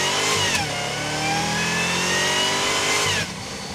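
A Chevrolet Camaro's engine revs hard while driving, a loud, sustained mid-pitched roar that climbs and holds for several seconds before dropping off abruptly near the end.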